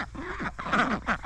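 Geese honk close by in a few short, nasal calls bunched together over about a second, with a brief pause between bursts.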